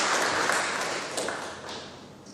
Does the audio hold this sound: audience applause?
yes